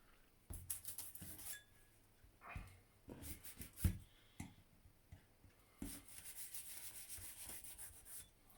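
A knife slits down the side of a music boxset's packaging with soft, close scraping and rubbing bursts, punctuated by a few sharper taps and crinkles, all quiet.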